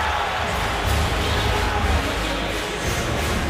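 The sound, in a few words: unhappy football stadium crowd reacting to a bounced punt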